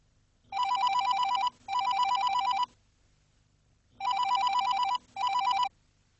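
A telephone rings in two double bursts with a pause between them, loud and clear with nothing else over it, in a Hindi TV drama.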